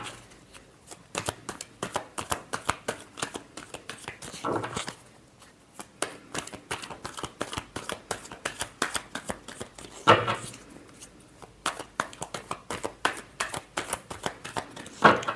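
Tarot cards being shuffled in quick, close riffling bursts, with a few brief pauses between rounds of handling.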